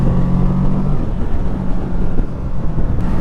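A 2020 Kawasaki Ninja 650 motorcycle engine runs steadily at close range, giving a continuous low droning hum mixed with wind rush, with no one talking.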